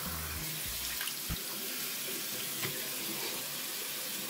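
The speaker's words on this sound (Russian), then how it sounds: "Так, сполоснул без остановки, давайте умываюсь и" Running tap water pours steadily into a sink while a face is rinsed during a wet shave, a constant close hiss broken by a few splashes.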